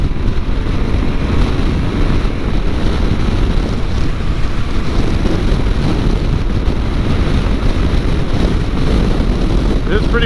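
Heavy, constant wind buffeting roars against the microphone while riding a Yamaha Tenere 700 motorcycle at speed, a low rumbling rush that never lets up.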